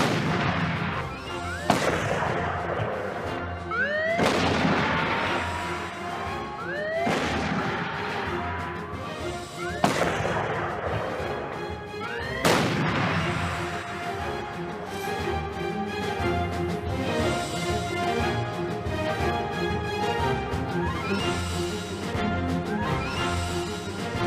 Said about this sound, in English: This video shows a number of different views of a test firing of one of the prototypes.